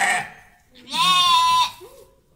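A sheep lets out a clear, close bleat with a wavering, nasal tone lasting under a second, preceded by a shorter cry and followed by a faint low grunt.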